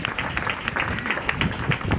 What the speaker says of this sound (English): Let's clap for the organizers.